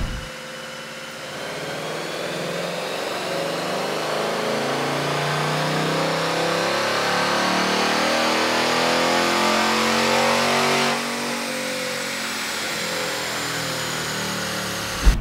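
A 2024 Ford Mustang GT V8 on a chassis dyno revs steadily higher through a long seventh-gear pull toward the speed limiter, a loud, continuous engine roar that rises, then drops off near the end.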